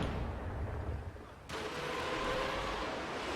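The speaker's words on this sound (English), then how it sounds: "Quite a few field gun shots can hit the dirt." Field gun fire in a Company of Heroes 2 battle: a low rumbling barrage, then a sudden sharp blast that opens into a sustained roar of distant artillery and crackling impacts.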